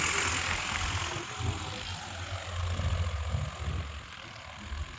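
A Swaraj 855 tractor and a New Holland tractor run in second gear during a field demo, giving a steady low diesel engine drone with a broad roar that swells and eases slightly.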